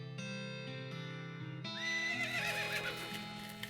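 Whinnying of a drunk horse in the western comedy video game West of Loathing, a stretched neigh with wavering pitch rising over a steady musical backdrop, loud and close with no speech.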